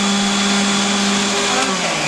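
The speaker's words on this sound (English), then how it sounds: "we're gonna put it in our food processor. And we're gonna puree the carrots." A food processor purees a pound of cooked baby carrots, its motor whirring in a loud steady close drone with a slight dip in pitch near the end.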